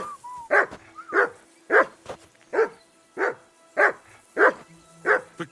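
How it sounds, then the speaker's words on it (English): A dog in Kingdom Come: Deliverance 2 barks nine times in a steady, evenly spaced rhythm, each bark loud and close, with faint background tones between them. "Call off that damn dog before he wolfs down the last of our mates."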